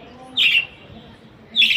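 Pet birds on a balcony give two short bursts of shrill chirping and squawking, loud and close, with a quiet pause between them.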